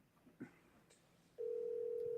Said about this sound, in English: I'm gonna dial you up, put you on speakerphone.